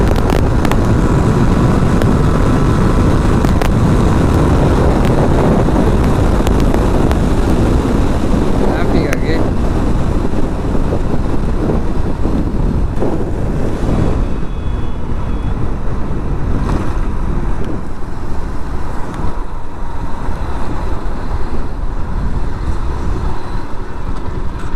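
A car driving fast on a Bangalore highway, heard as constant loud roaring rush and wind buffeting across the microphone with no gaps, the roar easing slightly toward the end.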